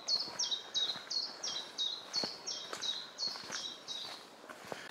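Birds sing outdoors on a hillside walk at Beacon Fell, with a steady run of repeated bright two-note chirps at moderate distance and faint footsteps and rustling underneath.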